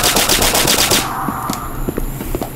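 Rapid automatic gunfire from a gun in the SCP: Site-19 mobile multiplayer game, a dense burst of close, loud shots for about a second followed by scattered single shots and game noise.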